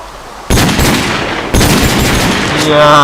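Two loud, abrupt pistol shots in the Minecraft video game, each followed by a sustained noisy burst, with a voice talking near the end.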